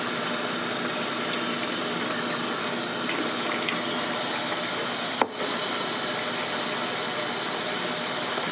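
Water running steadily through a homemade film washer in a sink, a constant broad hiss with one brief knock partway through.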